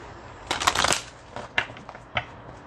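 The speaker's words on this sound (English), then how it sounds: "I feel like I've been shuffling these cards forever" Tarot cards being shuffled by hand in a quiet room: a dense riffling burst followed by a few shorter soft flicks and taps, close and clear.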